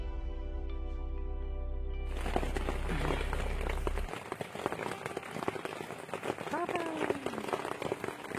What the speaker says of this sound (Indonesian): kami pun menikmati rintik hujan dari dalam tenda